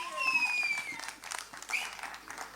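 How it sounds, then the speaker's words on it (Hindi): A crowd applauds at the trailer launch of the Sunny Deol film Jaat, a bright, uneven burst of clapping with a few louder peaks, moderately loud, while a voice speaks briefly over the start. "सनी सर के लिए एक बार जोरदार तालियां,"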